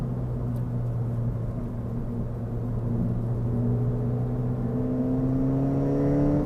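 A stock Ford Fiesta ST engine hums steadily from inside the cabin, its drone slowly rising in pitch as the car accelerates, loud and continuous with no talk.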